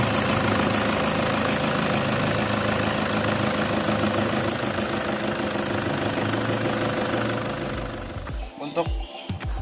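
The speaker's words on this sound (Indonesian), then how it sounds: "Kita justru mau dengar suara mesinnya, Om. Keren ini suara mesinnya." A 2013 Toyota Fortuner G TRD Sportivo automatic runs with a steady, dense engine hum heard from close by, then drops away near the end into a few clunks and handling noises.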